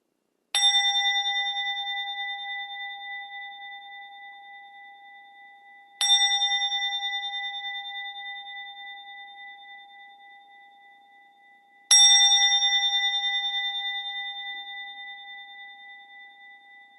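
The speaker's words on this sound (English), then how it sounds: "Ring a bell, say a little prayer" A meditation bell rings three times at steady six-second intervals, each strike clear and bright with a long, slowly fading ring in an otherwise silent space.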